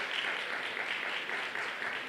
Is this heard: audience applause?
yes